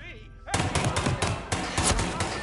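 A gunshot in the stealth game Hitman, a sudden loud blast that sets off a dense burst of repeated shots and impacts lasting a couple of seconds, with game sound mixing underneath.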